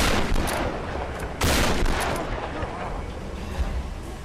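Shotgun fire in the Tomb Raider video game: several loud, heavy blasts come at irregular intervals over dense, noisy game action.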